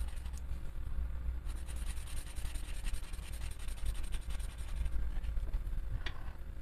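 A felt-tip marker is used to colour in a drawing on paper, giving a continuous close scratchy rubbing with short back-and-forth strokes.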